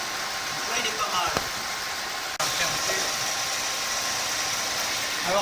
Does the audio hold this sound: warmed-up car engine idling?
yes